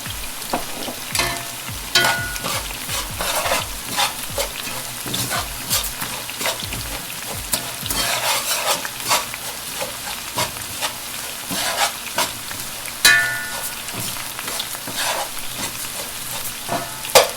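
Spices cooking in melting butter in a pan for a chicken and rice white sauce, a steady close sizzle and crackle with occasional stirring scrapes, no talking.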